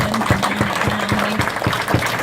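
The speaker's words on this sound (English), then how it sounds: "Let's have a round of applause there for Josh Embleton" Applause at a speedway press conference rises as a short, steady patter of clapping from a small room, with a few louder individual claps standing out.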